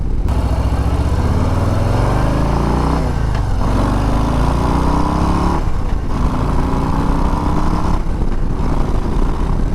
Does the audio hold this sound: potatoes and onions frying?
no